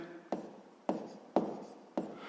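Numbers are being handwritten, probably with a pen on paper, during a sixth-grade maths exercise on subtracting mixed numbers. Four quiet, separate scratchy strokes come at roughly even intervals, close by, with no talking.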